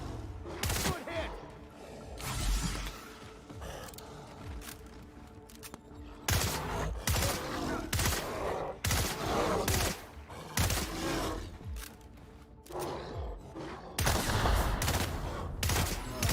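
Repeated bursts of gunfire from the Outer Worlds video game, loud volleys of shots and booms recurring across the scene with brief lulls between them, under game sound and occasional voices.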